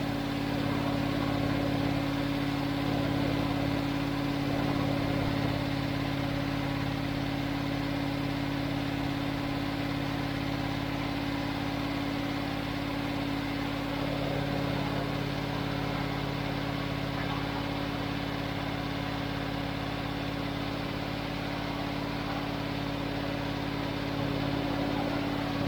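A green Range Rover engine idles steadily on its first start after a rebuild, a continuous low hum with a droning tone that holds even and unbroken throughout.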